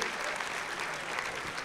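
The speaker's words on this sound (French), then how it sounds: "Oui, on l'applaudit." An audience at a live basketball talk show applauds a volunteer from the crowd with brisk, continuous clapping, close and even.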